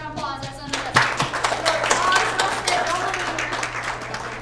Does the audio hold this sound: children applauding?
yes